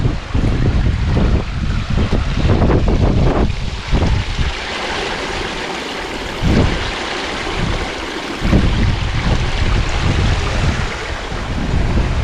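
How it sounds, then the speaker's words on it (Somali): Sea water rushes and surges below the large Dacar Budhuq bridge on the Berbera corridor in Somaliland, a steady broadband wash with heavy wind buffeting the microphone and a few louder gusts. "biyaha way qulqulayaan."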